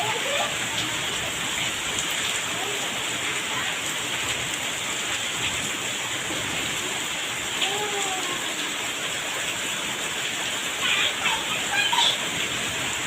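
Steady, dense rain pours down during an unexpected summer shower in Nalgonda, a constant hiss of drops on surfaces with a few faint voices and small knocks in the background.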